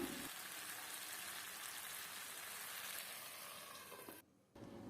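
Tomato with ganga vayili greens cooks under a lid in a pan, giving a soft, even hiss like light rain that holds steady and faint before a brief dip near the end.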